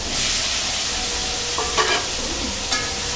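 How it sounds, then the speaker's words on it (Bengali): Vegetables sizzle and hiss in hot oil while a utensil scrapes and stirs them around the pan a couple of times, close up. "একটুখানি তেলে নেড়ে নিই, একটুখানি নরম হয়ে যাবে।"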